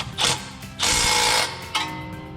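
A 12 mm ratchet wrench clicks while the brake line goes back into place on a 2015-2021 Subaru Outback during a lift kit install, three quick close bursts of ratcheting with a short pause between each.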